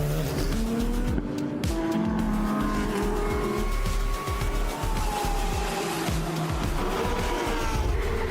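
GT3 race cars at the Dubai 24 Hours thunder side by side through a corner, engines roaring loudly and continuously with tire squeal and shifting pitch as they pass close by.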